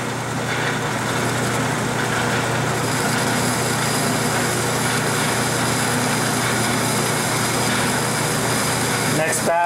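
A metal lathe takes a light spring pass while machining a precision spindle, a steady loud motor drone and whine running continuously, with a brief scrape near the end and no talk.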